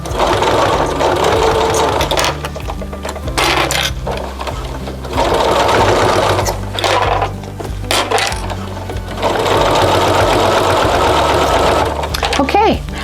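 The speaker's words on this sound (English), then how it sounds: "I have finished sewing the blanket" A sewing machine stitches a soft minky baby blanket, running in long steady bursts of rapid whirring with brief pauses between runs, close and loud.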